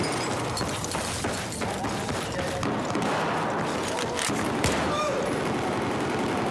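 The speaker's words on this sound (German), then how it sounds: "Oh, ein Schuss." Rapid gunfire and fusillades from the video game Battlefield 4, dense repeated cracks and bursts running continuously at steady loudness, with game mechanisms clattering in the mix.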